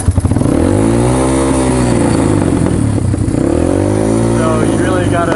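Honda XR200R motorcycle engine on a cold start, revved in rising and falling blips with a rough, loud, close single-cylinder roar that sags and climbs again.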